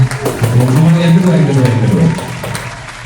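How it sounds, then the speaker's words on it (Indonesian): A youth church congregation in Bandung claps loudly while voices cheer and call out over the applause, a steady crowd roar lasting about three seconds. "Boleh tepuk tangan teman-teman semua."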